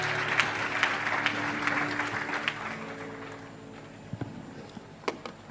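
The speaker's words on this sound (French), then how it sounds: "On peut acclamer le Seigneur pour eux." A church congregation applauds and cheers for the singers, a broad wash of clapping that is loud at first and then thins out, with scattered claps and a few voices near the end.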